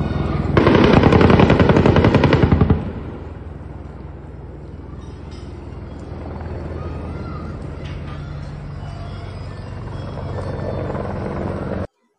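A loud rapid burst of automatic gunfire for about two seconds over a droning helicopter during an Israeli attack in Gaza, after which the rotor drone continues alone at a steady level.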